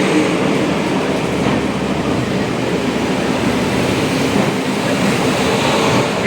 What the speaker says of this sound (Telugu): స్టేషన్ నుంచి అయితే ఎగ్జాక్ట్ టైంకి అయితే ట్రైన్ స్టార్ట్ అయిపోయిందండి.